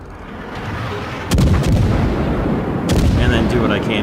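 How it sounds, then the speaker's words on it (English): Heavy naval guns firing from warships in World of Warships, two loud booming salvos about a second and a half apart, each rolling into a long rumbling tail over a constant low background din. "do what I can to try and get some HE rounds on that enemy Bismarck and set him on fire"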